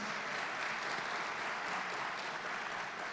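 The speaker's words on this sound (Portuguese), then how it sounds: "Dá um aplauso se você vai subir em Cristo Jesus." Steady, dense applause from a church congregation fills the whole stretch, a continuous clapping wash with no breaks and no voices over it.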